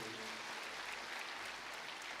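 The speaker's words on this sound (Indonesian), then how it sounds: "Kita beri tepuk tangan." Faint, steady applause in a church after an Ave Maria performance, an even wash of distant clapping with no clear individual claps.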